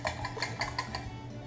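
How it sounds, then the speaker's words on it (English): Eggs being lightly beaten in a bowl for scrambling, a quick series of soft rhythmic clinks and taps of utensil against the bowl, faint and close. "I'm just gonna lightly beat these eggs"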